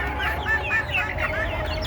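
Native chickens, big and small mixed together, kept on a rooftop, cluck in a quick, overlapping run of short calls, close by and fairly loud over a low background hum.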